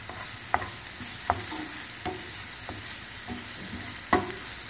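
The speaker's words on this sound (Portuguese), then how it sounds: "em uma frigideira aquecida, com uma colher de sopa de azeite, eu vou refogar o alho poró" Leek sautéing in a spoonful of olive oil in a hot frying pan, a soft steady sizzle broken by several sharp scraping stirs spaced a second or so apart, with no voices.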